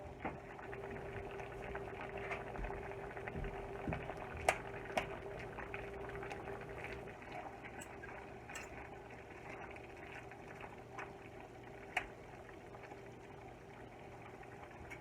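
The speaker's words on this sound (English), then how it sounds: "So this is boiling nicely." Water bubbles at a steady rolling boil in a pot for cooking cabbage, a soft continuous burble with a few faint clicks and taps nearby.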